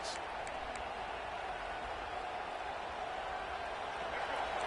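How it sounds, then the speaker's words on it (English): A steady roar of a large stadium crowd at a college football game in the video game College Football 26, constant and broad, with a few faint sharp accents near the start. "This crowd bringing the energy and noise early."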